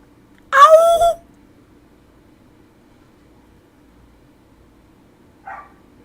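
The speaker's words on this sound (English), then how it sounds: "My dogs are barking, they heard me howl." A dog gives one short, loud bark nearby, followed by several seconds of quiet and a faint second bark further off.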